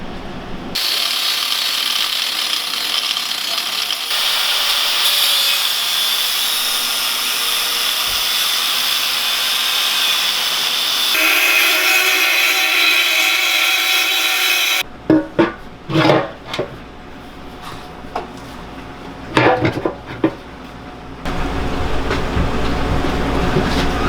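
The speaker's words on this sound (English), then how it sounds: "it looks like we're going to have to cut these tabs off without cutting our brake line" Metal tabs are cut off a street legal mini bike frame: a loud, sustained grinding whine runs for about fifteen seconds, changing pitch in sections, then gives way to sharper intermittent clanks and scraping bursts up close.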